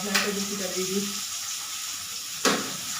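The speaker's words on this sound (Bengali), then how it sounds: "এদিকে মাছের মাথা ভাজা হচ্ছে" Close, steady sizzling of fish heads frying in oil, with a couple of brief louder pops or clatters.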